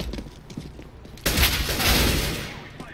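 Gunshots in the video game CS:GO, with a few quiet shots followed by a sudden loud close burst of fire that rings out and slowly fades.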